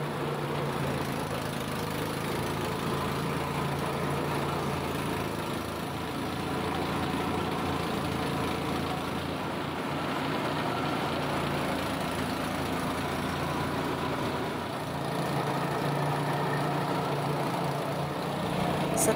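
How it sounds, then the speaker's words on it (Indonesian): A motorized machine presses grated coconut to extract coconut milk for homemade cooking oil, producing a steady, loud mechanical drone and engine-like rumble that stays even and continuous throughout, with no voices. "parutan diperas dengan mesin seperti ini"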